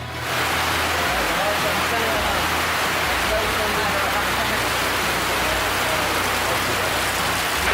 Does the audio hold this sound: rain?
yes